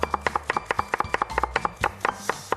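A knife strikes a cutting board in quick, steady taps, about twenty cuts in under three seconds, as food is sliced into thin strips for white kimchi. The cuts are close and crisp, with no talking.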